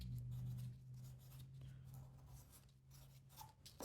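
A pencil scratches across paper while drawing flower buds, with soft, faint, irregular strokes close by over a low background hum.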